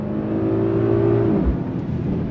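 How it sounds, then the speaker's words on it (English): A 2024 Mercedes-AMG GLS 63 SUV launches from a dead stop, its engine droning loud and close, then the pitch drops briefly at a gear change before the rumble continues. "From a dead stop, launch control on throttle"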